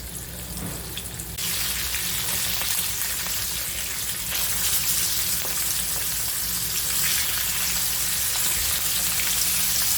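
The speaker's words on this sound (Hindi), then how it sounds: "अलट पलट करके अच्छे से फ्राई करेंगे उसे 10 मिनट तक।" Fish frying in hot oil, a loud continuous crackling sizzle that jumps up after a quieter start, with faint bumps as the pieces are turned over.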